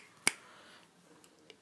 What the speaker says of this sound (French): ces flammes qui ressortent de ses doigts en un claquement de doigts